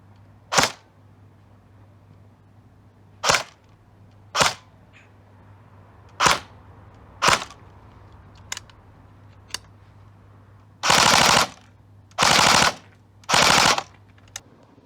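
CYMA AK-74U airsoft AEG firing, first as a series of spaced single shots with sharp close cracks, then three short full-auto bursts near the end, with a low steady hum between shots and no talking.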